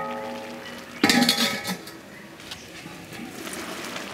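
A lid set back onto a clay stewing pot lands with one sharp ceramic clink, followed by a short rattle as it settles, then quiet kitchen background.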